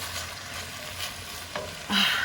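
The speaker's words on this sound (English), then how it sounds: "So what I do is give it a good stir before I add any liquid to the pot" Thick tomato paste stirred in a hot pot for a Tuscan meatless ragu, a soft sizzle with scraping strokes that swells louder near the end, no voices.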